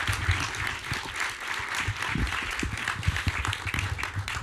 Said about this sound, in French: on peut déjà applaudir les gens qui sont ici.